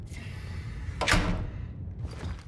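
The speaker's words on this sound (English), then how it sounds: "Doors closing on their own and making noise when they do so?" A door in the horror video game Cronos: The New Dawn swings shut by itself, giving one solid thud over a low ambient game rumble, with faint background tones continuing after.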